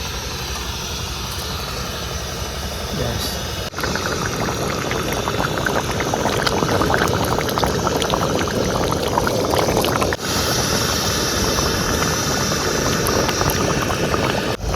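Meat curry simmering in a pot after water is poured in, cooked outdoors at a riverside picnic; a dense, steady bubbling and crackling boil that grows louder after a few seconds, with no voices.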